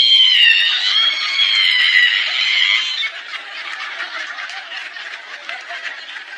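A voice imitates an ironing board being opened, a long, high, wavering creak, shrill and squealing for a few seconds, then fading into a rougher, quieter rasp.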